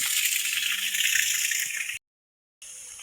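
Water from a reservoir pours and rushes in a steady, close hiss, cutting out abruptly for a moment before resuming.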